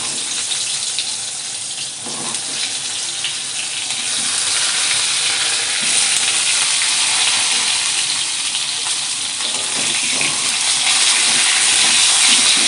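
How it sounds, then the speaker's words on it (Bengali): Brinjal pieces fry in oil left from frying hilsa fish, a loud, dense, steady sizzle close up with occasional soft stirring knocks and no speech. "ওই মাছ ভাজা তেলে বেগুনগুলো ভেজে নেব"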